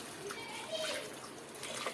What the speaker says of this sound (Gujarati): હવે તેમાં આપણે 2 ગ્લાસ જેટલું પાણી નાખી દઈએ.